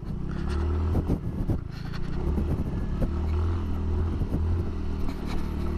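A 2020 Suzuki Nex Crossover scooter climbing uphill with the throttle held open, a close, steady droning engine hum mixed with wind buffeting and road rumble.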